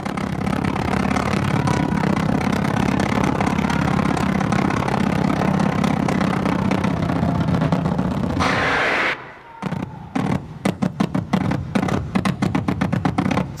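A continuous droning, engine-like roar that abruptly breaks into choppy, stuttering bursts of DJ scratching imitating a sputtering airplane.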